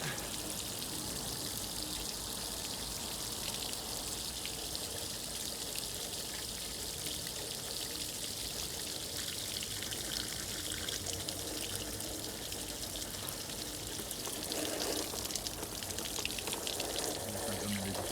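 A garden hose sprays water steadily across a roof, giving a continuous close hiss and patter with no pauses and only a faint voice now and then.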